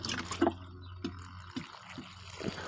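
Water poured onto a newly planted tomato plant in garden soil makes faint, uneven splashes and gurgling drips, a few louder gulps spread across a quiet outdoor background.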